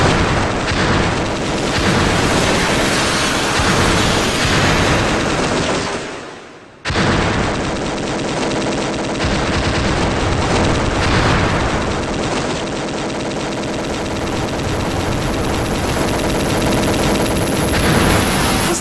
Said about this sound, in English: This game, obviously, though, has the universal language of shooting stuff up